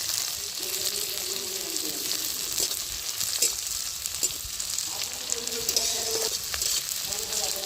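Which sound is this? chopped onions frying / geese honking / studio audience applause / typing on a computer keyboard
chopped onions frying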